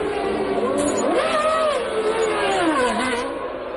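A 1997 Formula 1 car, an Arrows, pulls out of the pit lane after a pressure stop, its engine note rising and sliding in pitch under loud continuous race-circuit noise.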